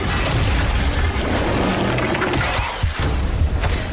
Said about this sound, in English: Blighted Hell Knight will build up and release a massive explosion